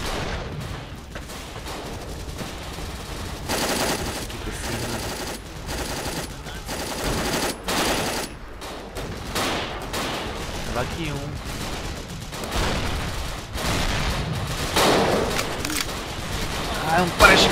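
Gunfire in the PC game Dino D-Day comes in repeated loud bursts and single shots, rapid automatic volleys mixed with heavier bangs throughout a busy battle.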